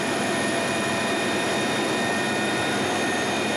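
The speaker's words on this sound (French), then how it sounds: "l'hélicoptère de la sécurité civile se dirige vers l'hôpital de La Rochelle" French civil security rescue helicopter flying at over 250 km/h toward a hospital, a loud steady roar of turbine and rotor wash with a high whine, heard close and unbroken.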